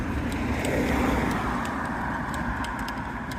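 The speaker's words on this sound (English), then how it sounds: "There is already at 4:30 a lot of traffic." Road traffic in Velletri at about 4:30, a constant wash of car engines and tyre noise from nearby vehicles, steady and fairly loud with no talking.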